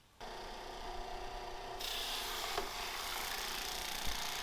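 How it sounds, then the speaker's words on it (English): Drum sander working wooden strips and the handle of a long-handled net in a shop, a steady continuous abrasive rasp that grows louder partway through, with a brief knock near the end and no talking. "running it through the drum sander to even out the strips and the handle"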